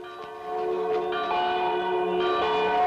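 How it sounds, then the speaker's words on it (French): Church bells ring continuously in a French-dubbed western film, overlapping metallic tones, a steady wash of pealing that stays fairly loud throughout. "Qui est-ce qui sonne les cloches?"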